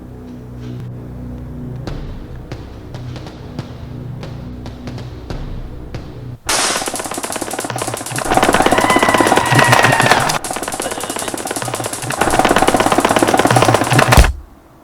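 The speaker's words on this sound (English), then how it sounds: "Training with a taser gun." A taser gun fires in a sequence of sharp evenly spaced clicks, then breaks into a loud continuous buzzing crackle that surges, dips briefly and surges again before cutting out abruptly.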